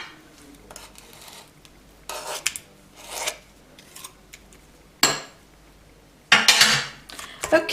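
An egg being mixed gently into batter in a bowl, heard as several separate bursts of scraping and clinking from a utensil against the bowl, each lasting about a second, with short quiet gaps between them, close by.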